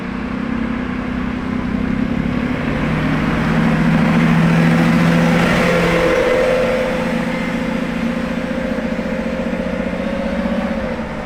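A green Verde Viper Lamborghini's engine drones and rises as the car drives past at street level, the tone climbing and fading over several seconds amid continuous traffic noise.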